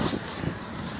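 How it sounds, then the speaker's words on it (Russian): Steady wind rushing across the microphone, a low continuous roar with slight buffeting, no voices. "Ветер."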